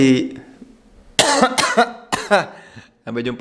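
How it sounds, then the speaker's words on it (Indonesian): A few sharp, loud coughs in quick bursts separated by short pauses, with a brief voice at the start and end. "Batuk."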